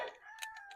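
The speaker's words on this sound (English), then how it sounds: "Y'all hear our rooster?" A rooster crows in a drawn-out call with a clear, steady pitch, heard alone and fairly close, with faint clicking in the background.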